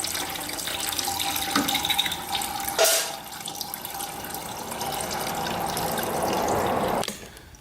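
Coolant drains from a BMW S1000RR motorcycle in a steady, trickling splash of liquid, with one brief sharper burst partway through and a quiet stop near the end.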